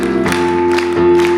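A church congregation claps during a Sunday worship service, short bursts of clapping rising and falling over steady sustained keyboard tones.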